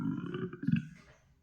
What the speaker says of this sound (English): That was a short burp.